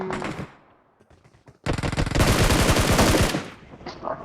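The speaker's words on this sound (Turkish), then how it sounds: "Emir Emir vur vur vur vur vur" Rapid bursts of automatic gunfire in a battle royale video game fight, a short volley at the start, then a long, loud, dense burst after a pause, with a voice faintly calling out near the end.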